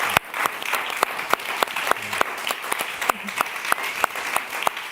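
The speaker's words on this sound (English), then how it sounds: "Let's give them a nice round of applause." After a talk, an audience breaks into applause: a full wash of clapping with several sharp, close hand claps standing out, continuing steadily and fairly loud.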